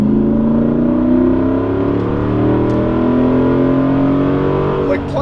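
A Jeep Gladiator with a swapped-in 6.4L Hemi V8 pulls hard under acceleration, a steady low engine drone climbing in pitch from inside the cab while people talk over it.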